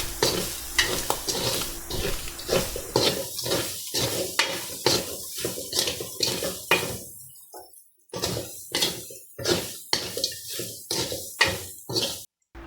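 Papaya noodles being stirred with curry powder in a pan, a rhythmic series of scraping, clattering spoon strokes over a frying sizzle, pausing briefly before the strokes resume.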